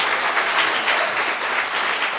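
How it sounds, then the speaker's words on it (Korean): Warm applause from a church congregation welcoming a visiting pastor at a revival meeting, a steady dense wash of clapping that holds evenly throughout with no voices over it. "우리 뜨거운 환영의 박수와 하나님의 영광에 돌리면서 환영했습니다."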